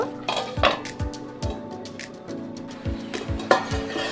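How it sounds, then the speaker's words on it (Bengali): A lid goes onto a cooking pot of Bengali pui shak chochchori made with hilsa fish head, with several close metallic clanks and knocks of metal against cookware spaced across a few seconds. "ঢেকে দেব"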